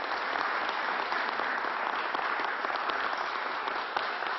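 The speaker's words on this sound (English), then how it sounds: "Let's give another round of applause." Sustained audience applause fills a public vaccine announcement in the Southwest Bronx, a thick, even wash of many hands clapping at constant loudness throughout, with no voices heard over it.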